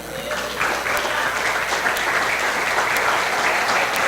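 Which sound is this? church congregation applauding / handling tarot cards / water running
church congregation applauding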